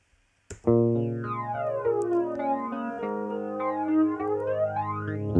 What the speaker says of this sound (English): we'll engage the flanger on that same guitar line from before